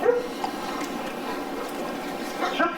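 Puppies whimper and let out a few short yips and barks close by, with faint voices in the background.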